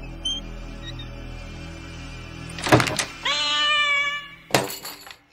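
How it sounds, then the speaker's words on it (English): A cat yowls as a jump scare in a 1986 horror movie: a sharp crash-like burst gives way to a loud, wavering meow-like wail, then a second sharp burst hits near the end. "Was Jumpy, a jump scare cat."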